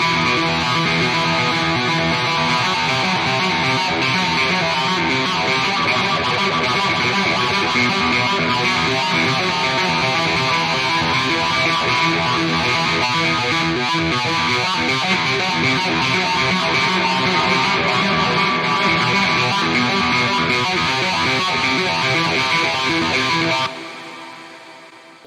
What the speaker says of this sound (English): adding that phaser pedal and the reverb pedal definitely made a big difference in this tone